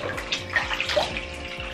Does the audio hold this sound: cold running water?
yes